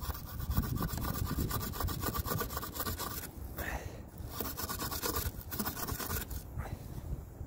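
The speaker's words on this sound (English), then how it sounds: "Now we'll take this wire brush and just scratch up an area." Rapid, gritty rasping as a wire brush is scrubbed back and forth over a rust-treated metal surface, close and continuous with short pauses between strokes.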